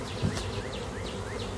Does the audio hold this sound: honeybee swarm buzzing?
yes